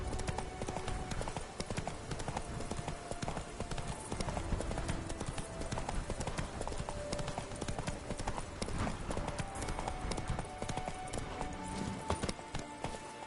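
Hooves of Roach, the horse in The Witcher 3, clatter steadily and without a break over a dense, loud bed of game ambience and music.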